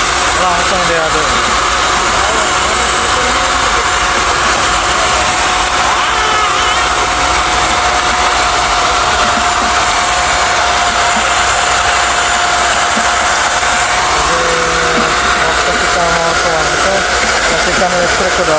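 An electric mixer stirring grout runs as a steady, loud broadband whir with a constant motor tone throughout, with voices faintly underneath.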